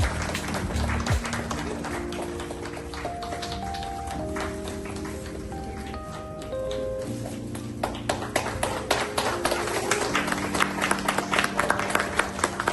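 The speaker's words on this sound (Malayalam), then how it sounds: "നമുക്ക് കൈയടി ആവട്ടോ നമ്മുടെ ബാക്ക്ഗ്രൗണ്ട് മ്യൂസിക് നമ്മുടെ കൈയടി തന്നെയാണ്" Audience applause at the launch of a Malayalam music album CD, a steady patter of many hands clapping that runs throughout beneath loud background music with sustained melodic tones.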